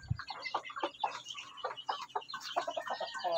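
A hen clucking up close in a rapid, irregular string of short notes. A brief low thump comes at the very start.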